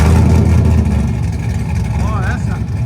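A car exhaust through an NTR Racing muffler by Netami, a loud, close, deep engine rumble that dips after the first second and then holds steady, with a short voice near the end.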